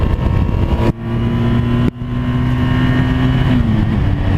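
BMW GS motorcycle engine revving loud and close, with two brief cut-outs as the clutch is dumped between first and second gear, then a steady droning pull.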